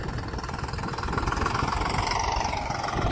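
A tractor engine idles steadily during mung bean harvest work outdoors, a continuous rough mid-low rumble with a faint rhythmic knock and no speech.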